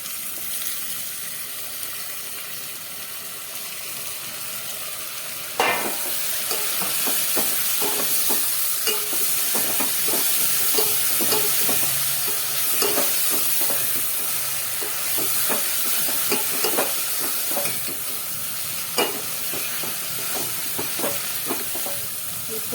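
Tomato, chili and ginger are added to browned onions in a pan and fry with a loud, steady sizzle and hiss, with stirring scrapes and clatters that start suddenly after a quieter opening, up close without talk.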